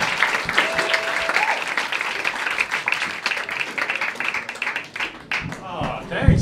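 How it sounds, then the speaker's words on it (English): Audience applause at a stand-up comedy show greeting comedian Ted Alexandro, a dense steady clapping crowd lasting several seconds with a whistle early on, then thinning near the end. "give a big round of applause for my man Ted Alexandro, y'all."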